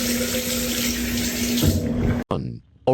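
A tap runs in a steady, close gush of splashing water for about two seconds, then shuts off abruptly, leaving a brief drip and a moment of near silence.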